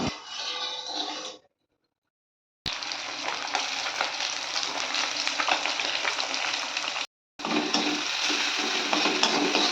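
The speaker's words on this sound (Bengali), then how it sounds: "তো মাছটা এবার ভেজে নেব।" Fish marinated in salt and turmeric fries in hot oil for a Bengali fish curry, giving a loud, dense, continuous sizzle that cuts out briefly twice.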